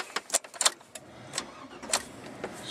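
A 2002 Chevy 1500 pickup engine starts, heard as a few sharp clicks and short bursts that settle into a faint, uneven running sound. It is quiet and close, with no talking.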